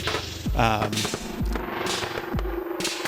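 Electronic tones from a Eurorack reverb module drift and sweep through a washy reverb as its settings change, with low thumping pulses and shifting textures as the sound keeps changing.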